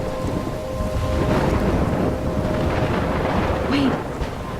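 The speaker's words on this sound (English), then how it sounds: "I'm trapped in a storm?" Thunderstorm in the video game Life is Strange: heavy rain roars steadily, with rolling thunder building toward the end.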